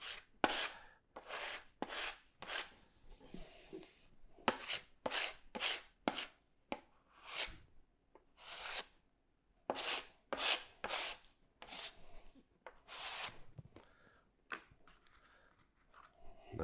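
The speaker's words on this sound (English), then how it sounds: "I could scrape it off now." A blade scrapes filler off a cabinet panel in a series of short, rough rasping strokes with brief pauses between them, close and fairly quiet.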